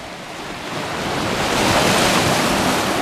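Ocean waves wash onto a beach in a continuous broadband roar, swelling slightly louder midway, with some wind buffeting the microphone and no voices.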